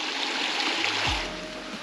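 Water rushes and babbles steadily in a stream at Jackson Falls, Southern Illinois, a constant hissing flow with no voices.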